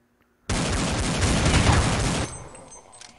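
A dense, loud burst of rapid gunfire rings out in a Counter-Strike 1.6 match, a sustained volley of overlapping shots lasting nearly two seconds before cutting off into a quieter tail.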